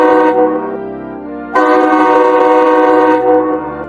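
An animated train pulls away with its horn sounding, a loud sustained tonal blare that drops briefly then swells back strongly before cutting off, close and alone.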